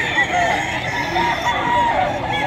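Roosters and fowl at a crowded pet and poultry market in Bocaue, Bulacan, crowing and clucking loudly and close, with continuous overlapping calls filling the scene.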